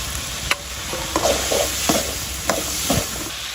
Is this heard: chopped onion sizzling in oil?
yes